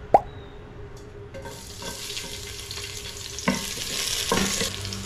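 Garlic frying in a pan, a soft continuous sizzle that builds slowly over a few seconds, with a sharp clatter at the start and occasional stirring scrapes.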